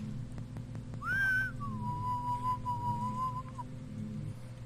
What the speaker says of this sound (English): Stop your shitty whistling.